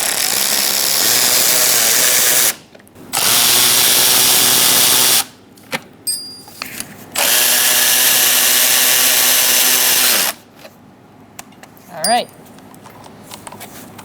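Three long, loud whirring bursts from a power tool backing out radiator fan bolts on a 2014-2018 Subaru Forester, separated by brief pauses, then scattered clinks and handling sounds as the work ends.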